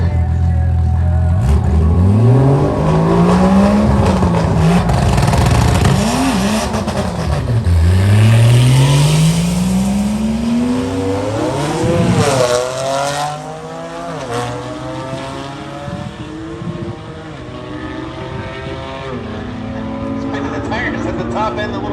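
A BMW and a little Toyota launching down a drag strip at Orlando Speed World, engines roaring loud as they rev through several upshifts, then fading as the cars pull away, with a voice commentating over them.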